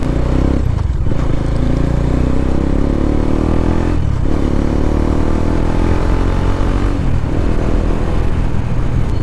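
Bajaj Dominar 400 motorcycle with a modified exhaust accelerating hard, a loud, dense, rumbling roar that climbs in pitch through several gear changes, heard up close and continuously.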